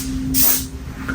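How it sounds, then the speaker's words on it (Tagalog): Shine hairspray with a strawberry scent is sprayed onto hair in a single short hissing burst, fairly close and loud, over a steady low hum. "And this is the shine spray."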